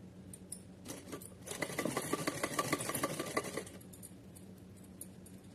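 A sewing machine stitching flower trim onto a small heavy dress for a Kanha idol: a short run of rapid mechanical needle clatter in the middle, nearby, with quieter handling before and after and no talk.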